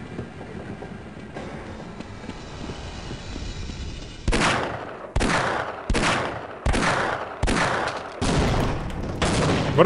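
Gunfire in the video game Half-Life: after a quiet, murmuring start, about six sharp, loud bursts of shots arrive in quick succession, each cutting off abruptly, with no speech.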